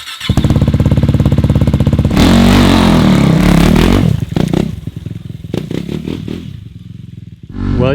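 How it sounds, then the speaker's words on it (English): A KTM 390 Duke motorcycle on its first ride, engine revving hard with a steady rapid pulse, then surging through a loud acceleration roar before dropping to uneven rumbling and blips, close and loud throughout. "It's the first real ride on the 390 Duke."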